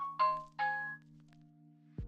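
A phone notification chime plays two bright, ringing tones in quick succession, clear and close, followed by a short soft thump against a low steady background hum.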